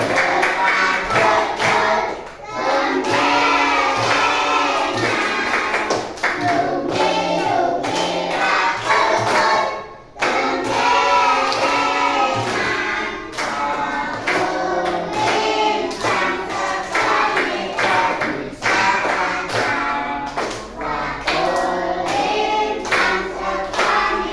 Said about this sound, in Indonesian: Menggunakan tepuk tangan.